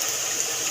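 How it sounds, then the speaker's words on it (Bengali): Water poured into a pan of frying spices (cumin, chili and turmeric powder) for a Bengali papor curry, a brief steady hissing gush at close range with no talk. "মশলা ধোয়ার জল দিয়ে দেবো একটু"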